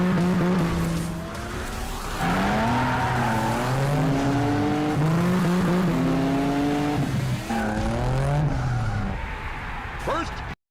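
Cars racing in an old-school arcade-style racing video game: loud, continuous engine whine that rises and falls in pitch through gear shifts, with tire squeals and skids mixed in, played close and steady for about ten seconds.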